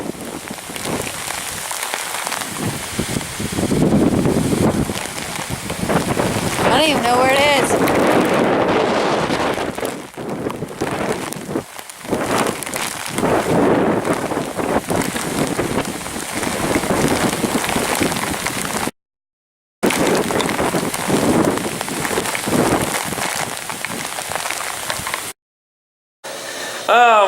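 During Hurricane Michael, heavy rain pours outdoors in a loud, continuous roar while wind buffets the microphone. People talk at times over the downpour, and there are two brief breaks of silence.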